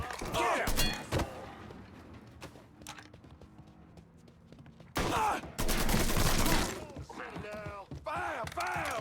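Video game gunfire in Mafia 3 cracks out in loud, dense bursts, sparse near the start and heavy bursts in the second half, mixed with thuds and shouted voices.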